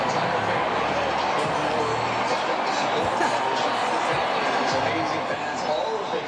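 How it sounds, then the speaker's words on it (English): Dense, steady roar of a large outdoor crowd cheering at the Dodgers victory parade in downtown Los Angeles, continuous and loud with mixed voices and shouts throughout. "Can we listen in and listen to some of the crowd for a second?"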